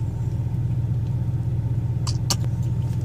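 A car engine hums in a steady low rumble close by, barely rising as the pedal is pressed lightly, with a few faint clicks on top.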